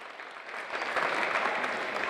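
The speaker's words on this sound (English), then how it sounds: "Just one more big round of applause for you." An audience claps at a basketball conference session. The applause is a continuous crowd patter that swells slightly louder partway through, with no clear talk over it.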